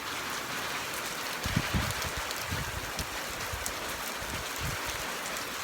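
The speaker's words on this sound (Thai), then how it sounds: "ตกฝนเริ่มตกแล้ว" Heavy rain from a storm falls steadily, making a dense, constant hiss with some low thumps of drops hitting a nearby surface.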